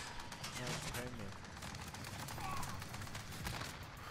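Rapid submachine-gun fire from an MP7 in a Call of Duty match rattles in dense, fairly quiet bursts, mixed with other battle noise, and a voice talks over it.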